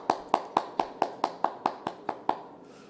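Church congregation applauding in ten or so distinct, evenly spaced claps, each a sharp crisp burst, fairly close and clear, fading into quiet at the end.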